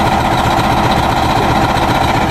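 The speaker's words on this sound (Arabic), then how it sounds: "عمرك سألت نفسك ليه مواتير الديزل صوتها كده؟" Diesel engine running at a steady idle, a loud, close, even rumble with a dense low throb and no other sounds.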